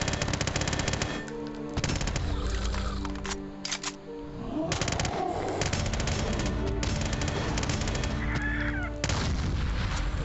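Machine gun fire in a zombie survival video game crackles in sustained loud bursts with brief pauses, layered over game sounds and a few cawing bird calls, with no voices heard.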